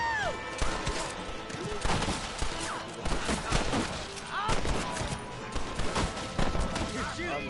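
Dense gunfire in a Red Dead Redemption shootout, rapid overlapping shots and cracks repeating steadily throughout, loud and close, with game voices talking over it.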